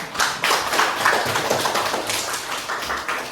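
Applause from students in a classroom, a loose patter of hand claps running steadily throughout with no talking over it.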